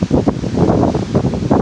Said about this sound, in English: kind of windy out today